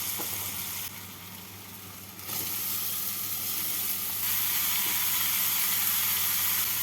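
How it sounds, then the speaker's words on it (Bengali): Ash gourd being stirred in a pan of spices with coconut, frying with a steady close sizzle and hiss that grows slightly louder partway through, accompanied by occasional soft scrapes and no talk. "চাল কুমড়োটাকে মশলার সাথে ভালো করে মিশিয়ে নেব"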